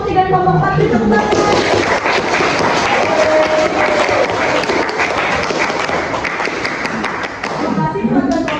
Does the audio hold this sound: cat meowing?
no